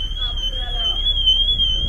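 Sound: alarm going off

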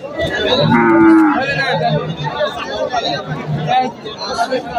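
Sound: cow mooing at a Kansat cattle market

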